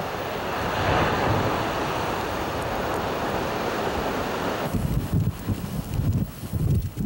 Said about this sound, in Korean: 이렇게 섬을 삼킬 듯한 파도가 치는 겨울바다의 북서풍은 칼끝처럼 시리고 춥다.